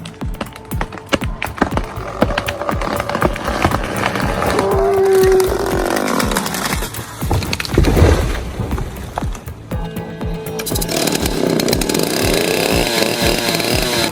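A big chainsaw fells a towering 5-foot hemlock, its engine buzzing loud and close in uneven bursts with crackling wood and rustling, then settling into a steady high whine in the last few seconds.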